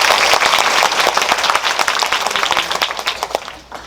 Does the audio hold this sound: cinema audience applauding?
yes